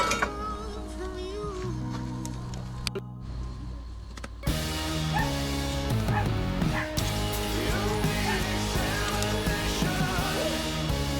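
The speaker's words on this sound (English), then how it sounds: "We've got a bunch of lab puppies over there that are just having a good old time tonight." A group of Labrador puppies barks, yips and whimpers outdoors, a busy overlapping stream of sharp little calls that grows denser and louder partway through.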